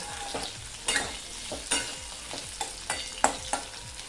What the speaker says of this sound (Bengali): আর এই ঢাকা খোলা অবস্থায় 2 থেকে 3 মিনিট এভাবে নেড়ে চেড়ে পেঁয়াজটাকে আলুর সাথে ভেজে নেব